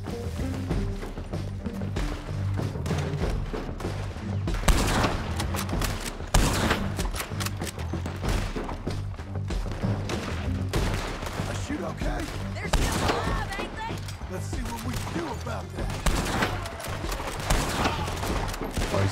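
Rapid gunfire from the western shooter Red Dead Redemption 2, dense volleys of shots cracking almost continuously throughout, loud and close with game action layered in and no pauses.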